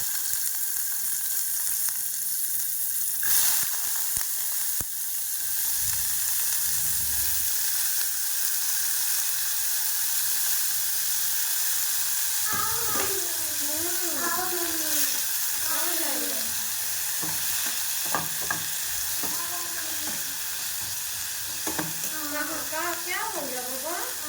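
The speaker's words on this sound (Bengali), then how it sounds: "এরপর আমি মশলাগুলো এক এক করে এই গরম তেলে দিয়ে হালকা করে" Whole spices sizzle steadily in hot oil for a mushroom dish, a constant close frying hiss with occasional clinks and stirring, while voices talk intermittently in the background.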